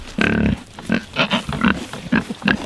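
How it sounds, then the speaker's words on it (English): A free-range farm hog grunts and squeals close by in several short, uneven bursts, the first one long and loud, followed by quicker snorts and oinks. "That is a happy pig right there."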